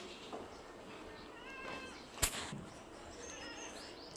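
A cat meows in a few drawn-out, wavering calls, fairly faint over a hissy background, with one sharp click partway through.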